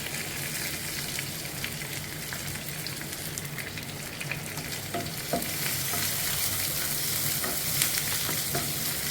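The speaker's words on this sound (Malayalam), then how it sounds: "പിന്നെ പച്ചമുളക്, കുറച്ച് കറിവേപ്പില, ആവശ്യത്തിന് കറിവേപ്പില ഇട്ട് ഇത് നന്നായിട്ടൊന്ന് വഴറ്റി കൊടുക്കുക." Ginger, green chilies and curry leaves sautéing in a pan for a Kerala-style green peas curry, a continuous close sizzle with spatula stirring and scraping that grows slightly louder partway through, no talking.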